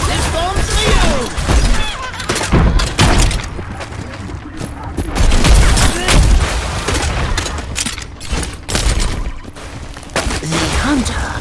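Explosions and bursts of gunfire in a video game, loud booms and rattling shots packed densely across the whole stretch with scarcely a pause, and a voice talking over the din.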